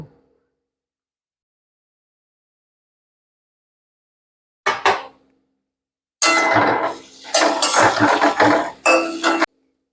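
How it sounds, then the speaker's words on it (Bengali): Spice paste of cumin, ginger, chilli, garlic paste and turmeric stirred in a pan for soybean dumpling curry. After a long silence, a spatula scrapes and clatters against the pan in a short burst, then a longer run of busy metallic scraping, close and loud. "এবার এই মশলাটাকে কষে নেব"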